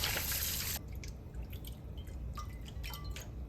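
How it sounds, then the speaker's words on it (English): Cut root vegetables rinsed in water while making Haitian bouillon, with a steady broadband rush of water for under a second, then soft drips, splashes and small wet squishes close by. "I started washing them and rinsing them thoroughly"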